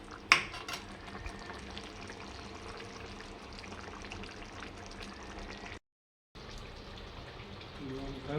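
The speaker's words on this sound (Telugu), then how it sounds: "friends mutton తిప్పుకున్నాము" Mutton curry being stirred in a pan, a steady low sizzle and scrape of the spoon with a sharp clank near the start, a brief dropout, then the cooking noise resumes.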